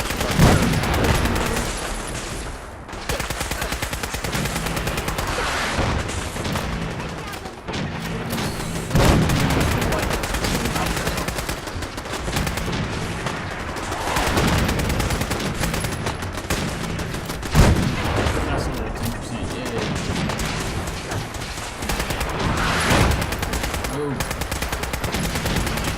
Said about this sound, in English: Really like those artillery shots.